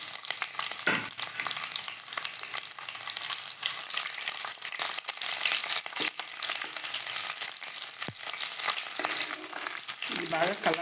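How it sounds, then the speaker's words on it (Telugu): Onion, green chillies, curry leaves and cumin frying in oil for a village-style gongura pulihora, a steady dense sizzle close by with occasional stirring scrapes throughout. "ఇది బాగా కలర్ వచ్చే వరకు, గోల్డెన్ కలర్ వచ్చే వరకు వేయించుకొని"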